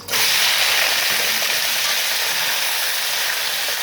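Potatoes dropped into hot oil set off a loud, steady sizzle that starts abruptly and holds at an even level throughout, close by and without any talking.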